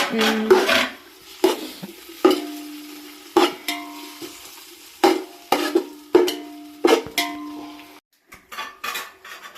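Onions and tomatoes sautéing in a pan for chicken biryani, stirred with a metal spoon that scrapes and knocks against the pan in a steady series of sharp clinks, close and fairly loud, with no talking.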